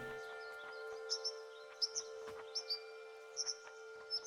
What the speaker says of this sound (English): Oh, with the subtitles you can hear the birds.